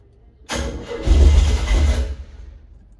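A Ford F100 pickup cranks and briefly catches, its engine rumbling loudly for about a second and a half before dying away, alone with no talk.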